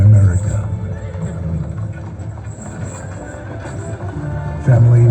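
Horses neigh and hooves clip-clop alongside a pioneer covered-wagon scene at an outdoor monument lighting show. A loud, busy soundtrack layers whinnies over rhythmic hoofbeats, with a voice speaking underneath.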